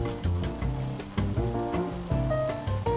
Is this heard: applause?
no